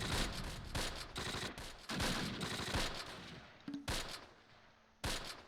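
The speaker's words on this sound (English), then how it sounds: "Put some rounds on that MG, I guess. Keep shooting there." Loud bursts of machine-gun and rifle fire from the wartime video game Close Combat Last Stand Arnhem come in several dense volleys with brief gaps between them.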